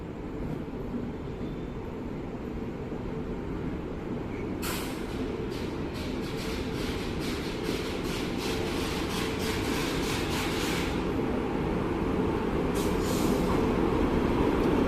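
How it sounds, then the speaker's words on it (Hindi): Kota Dehradun Nanda Devi Express pulling into platform 1 at Haridwar station, a continuous low rumble of rolling wagons with rhythmic metallic clatter and squeal bursts building steadily, with no talk. "हमारी आई है कोटा देहरादून एक्सप्रेस, जिसका अराइवल आप देख रहे हैं प्लेटफॉर्म नंबर 1 पर"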